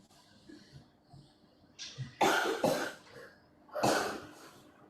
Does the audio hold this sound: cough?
yes